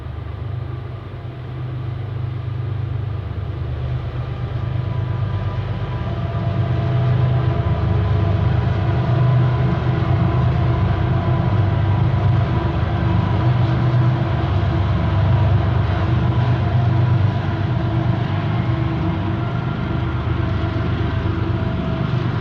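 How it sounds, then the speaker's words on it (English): A CSX northbound unit phosphate freight train passing along the Clinch River near Oak Ridge, Tennessee, a loud, continuous rumble and rail roar that builds and holds steady for over twenty seconds, with no voices. "we soon caught our first northbound unit phosphate train, K850, along the Clinch River just outside Oak Ridge"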